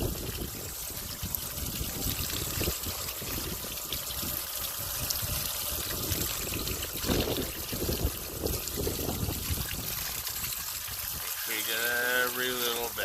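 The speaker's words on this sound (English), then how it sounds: "you rinse it off" Water running and splashing as a dirt bike air filter from a 2006 Yamaha 450 is rinsed inside and out, a continuous trickling spray heard up close with some background noise.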